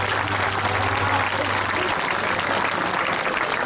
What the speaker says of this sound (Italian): Un applauso a Michela!